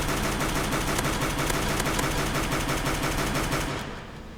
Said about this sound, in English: The next gun we're going to try it on is the SCAR.